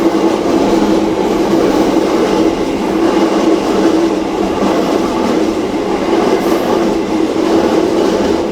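Loud, steady rumble of the Bima passenger train rolling past nearby in Indonesia, with rhythmic clacking of wheels on the rails throughout.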